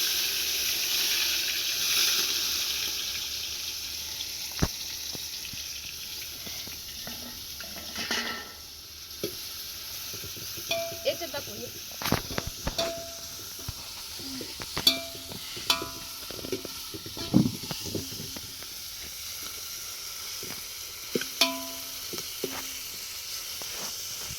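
Tomatoes hit hot oil with spices, producing a loud, even sizzle that settles into a softer hiss, then scattered spoon scrapes and clinks as the pan is stirred during the second half.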